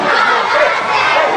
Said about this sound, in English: Make we clap for Governor Godwin Obaseki